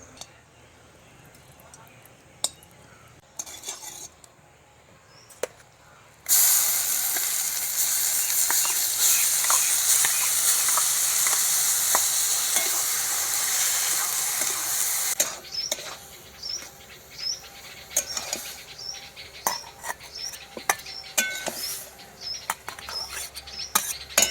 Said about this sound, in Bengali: এবার ঘি দিয়ে ভেজে নেবো